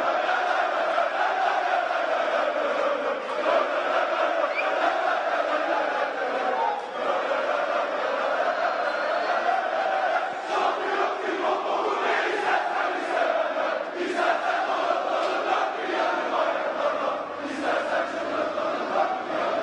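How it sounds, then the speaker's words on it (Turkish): Crowd of Galatasaray football supporters chanting and cheering together in a sustained, rhythmic roar that carries on steadily without pause. "Pankartlarla, tezahüratlarla müthiş bir destek veriyor Galatasaraylı taraftarlar sarı kırmızılı"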